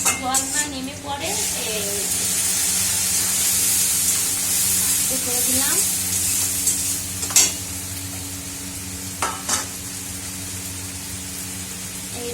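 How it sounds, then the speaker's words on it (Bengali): Onion and garlic sizzle and fry in a pan, a steady hiss under occasional stirring with a few short spoken words nearby. "একটু রসুন দিয়ে আছে সামান্য, দিয়ে একটু সামান্য একে ভেজে নেব। পেঁয়াজটা বেশ ভাজা হয়ে গেছে"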